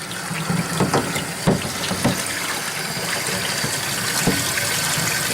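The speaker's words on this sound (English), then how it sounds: "So we're going to take this hose, we're going to go into that bucket" Hot water runs from a hose into a bucket, a loud continuous splashing gush with bubbling and irregular spatters, close and steady for the whole stretch.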